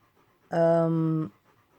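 A sick dog undergoing cancer treatment pants heavily as if hot, one close, steady breathy burst lasting under a second with a strong tonal, whining edge.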